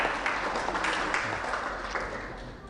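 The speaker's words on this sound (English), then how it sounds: "give him a round of applause" An audience at a Buddhist talk gives a short round of applause, a faint, steady patter of many hands clapping throughout.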